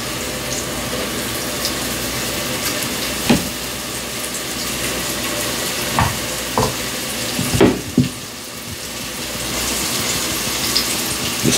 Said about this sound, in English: You want to sear these off.